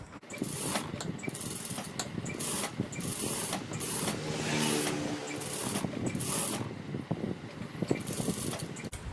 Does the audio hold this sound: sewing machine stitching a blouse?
yes